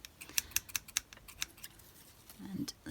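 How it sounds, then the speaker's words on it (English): Sharp, quick snipping clicks of small scissors cutting paper come in an uneven burst, then trail off, with a brief low voice near the end. "Let me find my little scissors."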